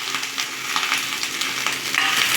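Appakovai, a small gourd used for chutney, sautéing in a pan over a medium flame, making a loud close crackling sizzle with busy popping and stirring scrapes throughout and no speech.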